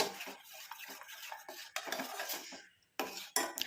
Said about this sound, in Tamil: இப்போ அதை நல்லா மிக்ஸ் பண்ணி விட்டுக்கலாம் நல்லா சுகர் எல்லாம் நல்லா கரைஞ்சி இதில் வந்து ஒன்றா சேர்ந்துடும்